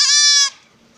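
A goat at a livestock market gives one loud, close bleat lasting about half a second, and a quiet background hum follows it.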